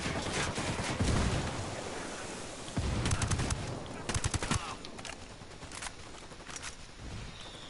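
Gunfire in the video game Ghost Recon Wildlands, with bursts of rapid automatic shots and scattered single cracks over a rushing, windy background, loud and close, some bursts in quick rattling strings.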